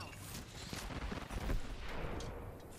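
Sniper fire from a Longbow rifle in the Apex Legends video game comes as a few sharp, booming cracks inside a dense, noisy wash of gameplay sound.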